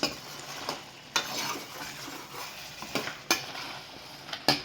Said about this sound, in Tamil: அப்பப்போ ஒரு நிமிஷத்துக்கு ஒரு முறை கலரி கொடுத்துட்டே இருங்க,